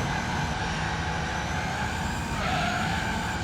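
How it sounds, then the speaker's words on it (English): A racing car's engine roars in Gran Turismo 3, a loud, strained, buzzing whine sustained throughout with a brief shift in pitch near the end. "This car sounds like it's projectile vomiting."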